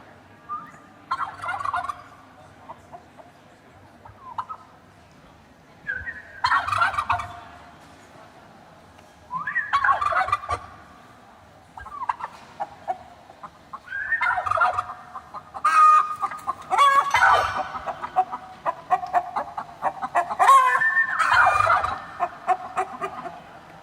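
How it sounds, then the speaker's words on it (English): Caged turkeys in Uzbekistan gobble in repeated loud bursts, each answering a human whistle, with the whistles and gobbles trading back and forth at close range. "those birds are in a cage, and second, they are reacting to every whistle that I make"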